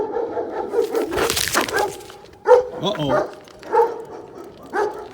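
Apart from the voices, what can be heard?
dogs barking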